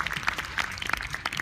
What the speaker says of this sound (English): can I have a big round of applause for them, please?